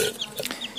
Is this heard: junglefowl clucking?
yes